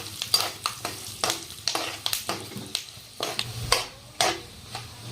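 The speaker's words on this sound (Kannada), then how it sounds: "ಇವೆಲ್ಲ ನೋಡ್ರಿ ಫ್ರೆಂಡ್ಸ್ ಈ ತರ ಮಿಕ್ಸ್ ಮಾಡ್ಕೊಂತ ಫ್ರೈ ಮಾಡ್ಕೋಬೇಕು" Cashews and dry red chillies frying in oil in a pan, with a spoon stirring and scraping in uneven bursts over a soft continuous sizzle, close by with no talk.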